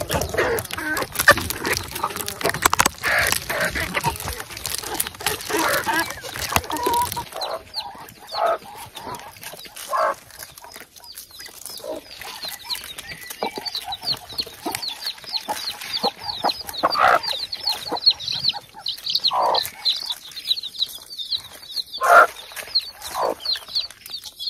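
Flock of chickens clucking and squawking excitedly at feeding time, a dense continuous chorus of overlapping calls, loud and close, with busier rustling early on.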